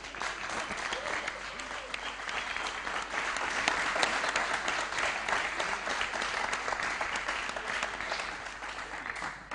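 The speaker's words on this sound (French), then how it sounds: "par vos applaudissements s'il vous plaît" An audience at a Tours association gathering applauds to thank relatives and attendees, sustained crowd clapping swelling slightly in the middle and holding for nearly ten seconds, with some faint voices mixed in.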